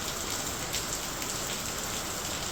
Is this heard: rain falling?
yes